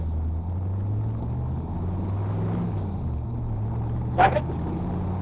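Ford F100 pickup truck's engine pulls steadily in first gear, a low droning rumble with a slowly rising pitch, heard from inside the cab, with a brief sharp click near the end.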